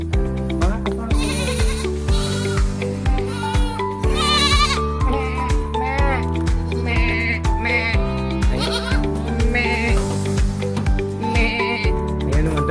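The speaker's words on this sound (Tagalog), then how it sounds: "mga kambing po ito na laki, mga original na kambing na laki" Goats and their kids bleat on an orange farm in Al Hariq, Saudi Arabia, with many overlapping calls close and far, loud and continuous throughout.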